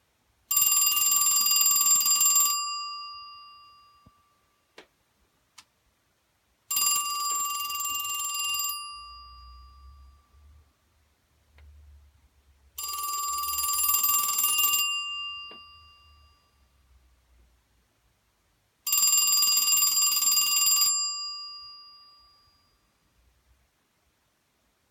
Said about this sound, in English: So I'll ring it for you and you can hear the lovely ring